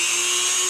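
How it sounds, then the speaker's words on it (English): A Dremel motor tool with a cutting wheel cuts through plastic with a loud, steady, high-pitched whine that holds a constant tone throughout, close up, with no talking. "Cut this out just using a Dremel motor tool with a cutting wheel"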